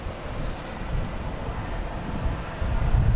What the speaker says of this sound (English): This is JetBlue came in from Nantucket